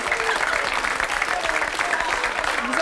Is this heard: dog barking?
no